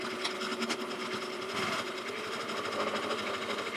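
A sewing machine top stitching a minimalist ID wallet, its needle running in a quick steady mechanical patter with brief changes in pace, close up and with no voices.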